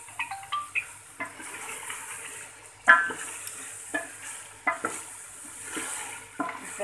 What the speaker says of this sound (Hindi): हमने इसको हल्की आंच पे 5 मिनट तक भूनना है।